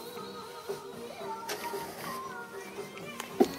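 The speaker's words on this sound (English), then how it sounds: "Custom built, direct to garment, inkjet printer." Custom-built direct-to-garment inkjet T-shirt printer based on an Epson P600 with a T-DOZER control board running a print job, steady mechanical whirring with a few sharp clicks and a louder clack near the end.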